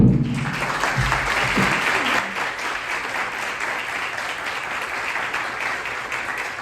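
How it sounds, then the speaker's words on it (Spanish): Applause from a forum audience for invited guests, a dense burst of many hands clapping that begins as a voice trails off, loud at first and then easing into steady, sustained clapping. "Un aplauso para nuestros invitados."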